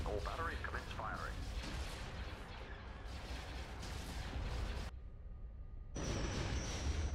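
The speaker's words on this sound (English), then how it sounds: "All batteries commence firing" Super Star Destroyer batteries pound away in Star Wars: Empire at War (Thrawn's Revenge mod) as a dense, sustained barrage of booming blasts that briefly drops out before resuming at full strength.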